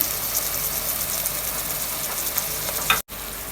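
Ginger garlic paste and green chilies hit frying onions in a pan for fish biryani, giving a steady bright sizzle with stirring throughout, cut off by a brief dropout near the end.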